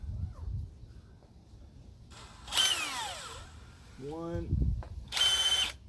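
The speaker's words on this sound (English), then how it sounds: "the first thing I'm going to do is do my pilot holes" Power drill boring pilot holes into the hull of a Lund SSV 14 fishing boat: two loud bursts of whining motor, the first rising then falling in pitch as the bit bites, separated by quieter shop noise and a short spoken word.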